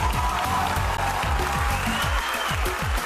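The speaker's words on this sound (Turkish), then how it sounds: "Seyirciden kendiliğinden alkışlar geliyor." Spectators at a wrestling match clap in a steady, continuous roll of applause, with low rhythmic thumping and a background murmur underneath.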